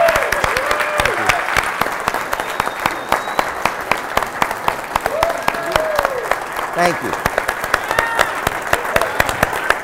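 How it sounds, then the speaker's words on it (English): Dense, steady applause from a packed audience at a convention panel at JoeCon 2018, with a speaker talking over the clapping throughout. "I'm applauding for you as well."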